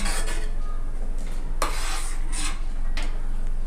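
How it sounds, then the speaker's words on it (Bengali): Milk boiling in a pot on a medium flame while being stirred, with metal scraping and clinks of the spoon against the pot over a steady low bubbling hum, no talk. "মিডিয়াম রেখে দুধটা এইভাবে ভালো করে নেড়ে নেড়ে জাল করে নিতে হবে"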